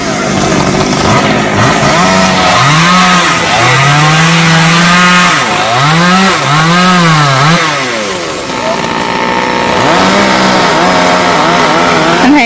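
Loud and near, a chainsaw saws through a big xà cừ tree branch near power lines. The engine revs in rising and falling surges, dips briefly, then drones on steadily.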